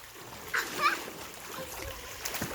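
A dog swimming in water, churning up light splashes and trickling water under a steady wash of outdoor noise, without clear speech.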